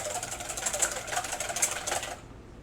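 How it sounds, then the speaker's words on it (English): Egg yolks whisked briskly in a bowl, giving a rapid, steady clatter that stops abruptly after about two seconds. "I'm going to take a little whisk and just break those yolks up"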